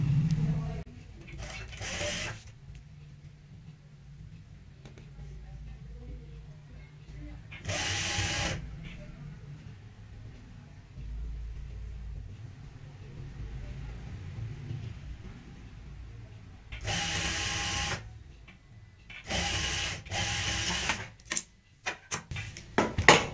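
A home sewing machine stitches handles onto a potli bag in several short runs of rapid whirring separated by quiet pauses, with a voice talking between the bursts.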